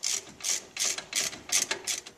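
Ratchet wrench tightening caliper pins during a brake job on a 2005 Chevy Avalanche: six or seven quick bursts of rapid clicking, close up and loud, with short pauses between strokes and no talking.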